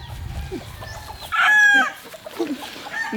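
A rooster crows once loudly and close, a rising then sustained call, with soft clucking and background chatter around it.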